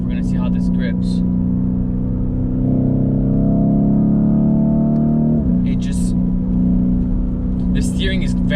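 A Lamborghini Urus SUV driving through corners, its engine a steady low drone that rises in pitch and then drops back as it works through the bends, close and continuous, with occasional brief sounds from inside the cabin.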